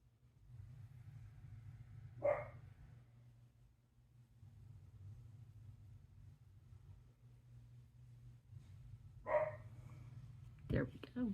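Small dog barking indoors: two separate short barks several seconds apart, then a third near the end, moderately close over a quiet low hum while a person speaks softly.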